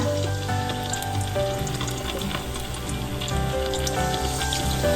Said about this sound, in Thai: ชุบทอดทีละหนึ่งชิ้นนะคะ ทอดจนให้เต็ม กระทะเลยนะคะ